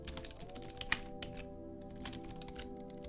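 Fingers type steadily on a computer keyboard during game-server coding, with brisk, close clicks and one sharper key strike over a constant low electrical hum.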